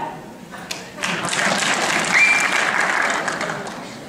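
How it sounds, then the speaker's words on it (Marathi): An audience at a community Gudi Padwa program breaks into applause after a few scattered opening claps, swelling into dense, sustained clapping that stays fairly loud to the end. "टाळ्या."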